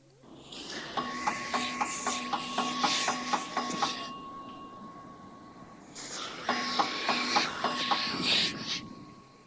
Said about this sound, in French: Les pneus qu'on regonfle.